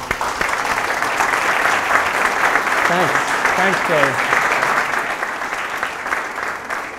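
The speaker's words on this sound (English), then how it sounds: "Thank you very much for the applause." Audience applause welcoming a panel of entrepreneurs at a Columbia event, steady and full throughout, with a brief spoken thanks heard over the clapping.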